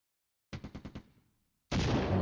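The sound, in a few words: enemy artillery fire in video game Flashpoint Campaigns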